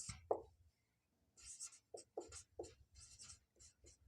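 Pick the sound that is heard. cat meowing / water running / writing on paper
writing on paper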